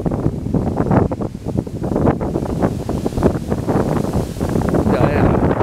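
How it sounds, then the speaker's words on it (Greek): Strong wind buffets the microphone in gusting, roaring bursts outdoors near a wildfire area, with voices heard under it. "Αέρας είναι αυτός."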